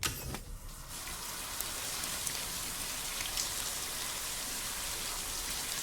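Shower water in Death Stranding 2 hisses steadily and evenly like rain, starting abruptly and continuing as a close, constant spray with no voices.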